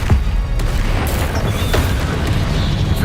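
An Incendio fire spell cast in the video game Hogwarts Legacy bursts out as a loud, booming whoosh. It settles into a dense, continuous fiery rumble that lasts the whole moment.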